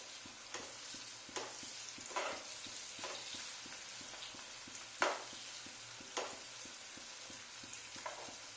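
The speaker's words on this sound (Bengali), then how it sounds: "পেঁয়াজটা ভাজতে ভাজতে আমি অল্প একটু নুন ছড়িয়ে দেব।" Sliced onions fry quietly in a pan for spicy chowmein, a soft steady sizzle with a fast ticking pulse beneath and several scraping stirs spread through, faint and close with no voices.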